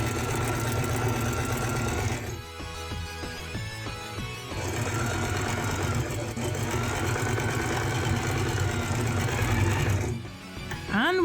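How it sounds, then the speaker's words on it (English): A sewing machine stitches fabric for a cosplay costume in fast, rattling runs, pausing briefly before resuming at a steady rapid pace, close and clear. "Sewing is almost done for now."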